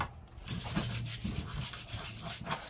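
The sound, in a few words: catfish being scrubbed with table salt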